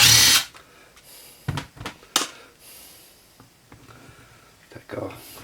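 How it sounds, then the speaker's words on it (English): A 10mm bolt is worked loose from a 4R70W automatic transmission valve body, with a few short, sharp metallic clicks and taps separated by quiet pauses; a voice talks briefly. "First thing we're going to do is remove this 10mm bolt."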